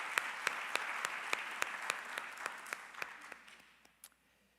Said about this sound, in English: an applause is needed.